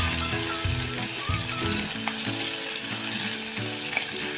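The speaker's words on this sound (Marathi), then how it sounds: "हा कांदा आपण परतून घ्यायचा आहे" Large chopped onion softening in a pan over a low flame, a continuous sizzle broken by repeated scraping stirs and soft knocks of the spatula, close and steady, no talk.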